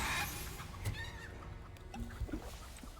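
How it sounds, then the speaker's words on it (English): Chicken clucking in the video game Hogwarts Legacy: a few short, faint clucks and squawks over quiet game ambience, with brief thuds in between. "You're now chicken."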